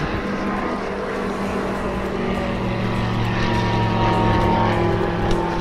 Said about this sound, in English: there's a helicopter above us